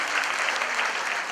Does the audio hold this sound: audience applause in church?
yes